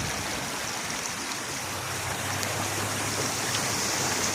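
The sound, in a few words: heavy rain and flowing floodwater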